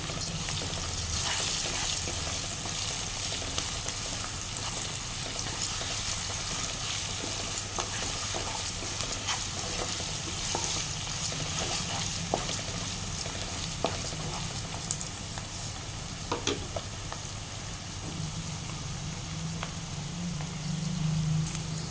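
Mutton curry stirred in a frying pan after a teaspoon of salt goes in, a soft steady sizzle under repeated scraping and clinking of the spoon against the pan, close and fairly quiet.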